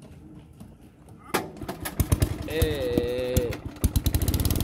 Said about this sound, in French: On va démarrer la machine. Moteur Bernard.